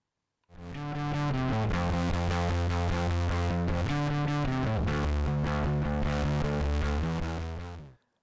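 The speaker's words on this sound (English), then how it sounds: "If I increase the gain a little so the preamp is audibly distorting and switch to third" A sustained instrument signal is driven through an SSL VHD mic preamp into audible harmonic distortion, sounding thick and saturated for about seven seconds with shifting notes and no speech.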